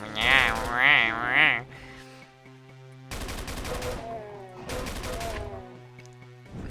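Shotgun blasts in the TNT Evilution game, a rapid trio of loud shots followed by two more heavy booms with ringing tails, plus a steady mechanical hum beneath.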